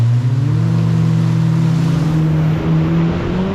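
A Kawasaki STX 160 jet ski engine drones loudly and close throughout, its pitch rising slightly, with the wash of water rushing beneath it.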